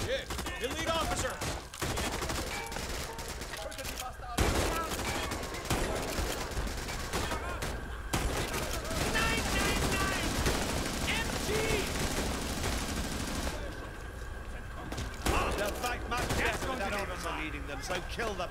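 Dense gunfire from Raid: World War II, bursts of rifle and machine-gun fire crackling almost continuously through most of the stretch, with shouted voices over the shooting.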